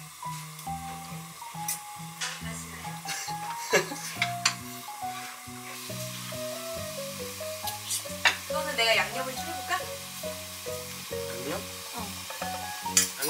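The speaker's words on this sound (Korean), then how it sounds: "열심히 한번 짜파게티를 끓여보겠습니다" Chapagetti noodles sizzle and fry in a pan while being stirred, with steady scraping and crackling over background music and a brief spoken word.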